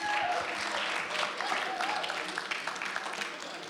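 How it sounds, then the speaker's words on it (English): Guests at a sangeet celebration clap together in a moderate burst of applause that gradually thins and fades over a few seconds, with no voices on top. "Another round of applause for Jussi,"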